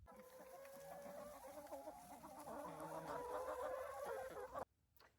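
Pasture-raised laying hens cluck and murmur nearby in a busy, overlapping chatter that breaks off abruptly near the end.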